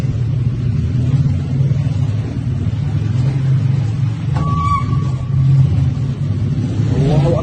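A car drives with a steady low rumble through an underground tunnel dug beneath a mountain, its engine revving loudly and echoing, with a brief higher tone near the end and no talk.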